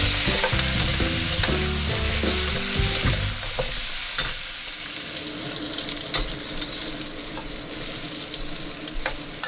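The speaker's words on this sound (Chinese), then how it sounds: "加入炸过的排骨，简单翻炒" Deep-fried pork ribs tossed in a wok with scallion, ginger and garlic for sweet-and-sour ribs, giving steady loud sizzling with scraping spatula strokes throughout, louder clattering early on, no talk.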